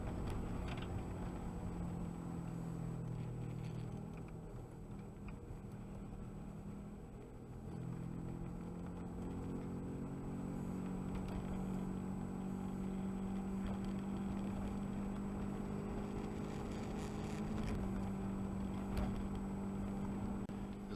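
Car engine droning steadily as it climbs a steep mountain road near Kaaterskill Falls, a low sustained hum with gear shifts and rising pitch, heard from inside the vehicle with no talk.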